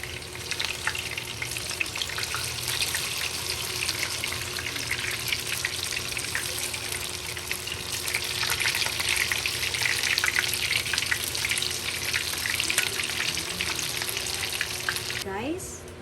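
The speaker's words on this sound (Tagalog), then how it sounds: "Guys, naprito na natin ang ating tofu." Tofu deep-frying in a pan of oil, giving a steady, dense crackling hiss that carries on unbroken for about fifteen seconds and swells slightly midway, close by.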